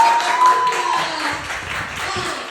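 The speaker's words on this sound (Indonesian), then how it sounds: "Tepuk tangan lagi sekali." An audience at a community testimonial event applauds, a diffuse wash of many hands clapping at moderate loudness that fills the room throughout.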